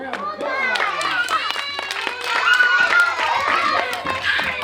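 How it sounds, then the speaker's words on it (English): A children's audience claps and cheers together, a lively patter of small hands and excited voices that holds steady for several seconds. "Give yourselves a round of applause."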